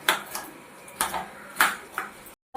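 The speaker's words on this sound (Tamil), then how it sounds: "இப்போ மூணு தக்காளி கட் பண்ணுறோம்" A knife cuts through tomatoes on a board, with four or five crisp, evenly spaced taps close up and quiet between strokes.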